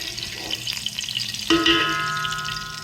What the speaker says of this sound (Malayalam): അപ്പം അതിലേക്ക് കുറച്ച് ജീരകവും പിന്നെ കുറച്ച് ക്രാമ്പും കുറച്ച് ഏലക്കായും ഇതൊന്ന് അങ്ങനെ വറക്കുന്നുണ്ട്.